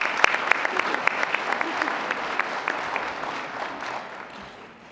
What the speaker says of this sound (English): So let's give her a welcoming round of applause